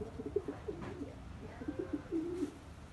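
Soft, repeated cooing from several Janssen racing pigeons in a loft, fairly close, with low throaty calls overlapping against a quiet background.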